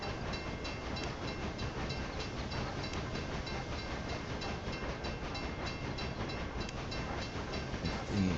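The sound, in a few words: trains running in the video game Railway Empire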